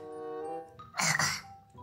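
A young child gives a short, harsh cough in the middle, between voiced, moaning vocal sounds, close to the microphone.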